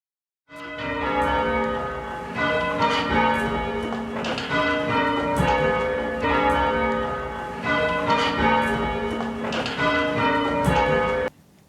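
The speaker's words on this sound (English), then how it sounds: "Wedding bells for Dr. Dee, who was married here in this church" Church wedding bells peal continuously in a full, overlapping ring, loud and close, with a steady rhythmic pattern of strikes throughout and no voices.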